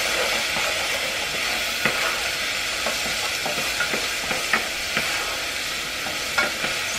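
A few apples cook in a pan with a soft, even sizzle, broken by faint clicks and taps of stirring scattered throughout.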